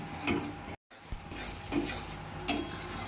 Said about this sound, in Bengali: গুঁড়ো দুধ দিয়ে এটাকে ভালো করে নাড়তে হবে